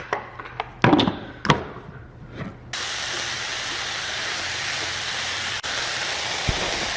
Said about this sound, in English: And then I'm just gonna blend this up really quick